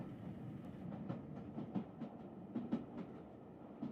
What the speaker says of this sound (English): The sound of the train's wheels on the stone tracks becomes a lullaby